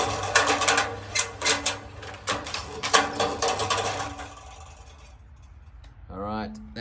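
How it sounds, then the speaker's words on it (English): A roller shutter motor lowers the shutter with a steady mechanical whir and rhythmic clicking for several seconds. The sound then fades to quiet, and a brief voice is heard at the end. "so we need to get the motor all the way down"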